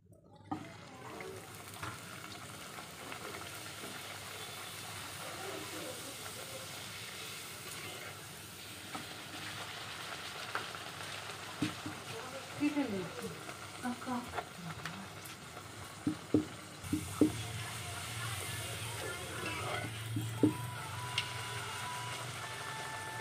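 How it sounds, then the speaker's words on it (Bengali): Luchi puffed flatbreads fry in hot oil, a steady soft sizzle with occasional louder bubbling and stirring, while a voice talks over it at times. "ভাজতে ভাজতেই বাবার জন্য রেডি করে দিলাম একদম গরম গরম লুচি আর আলুর তরকারি"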